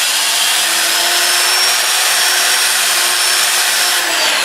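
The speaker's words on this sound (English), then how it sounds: "So what I'm going to do is just hold it and sand like this." Sandpaper is held by hand against a live edge magnolia wood bowl spinning on a lathe, giving a steady hissing rub over the lathe's constant hum.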